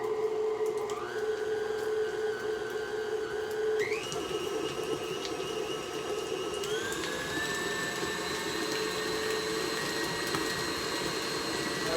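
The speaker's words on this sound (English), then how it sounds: "Let that beat up together a minute." An electric mixer beats cream cheese and half a stick of butter for a strawberry cake, giving a steady whirring drone with motor pitch shifting upward in steps, alone and fairly loud throughout.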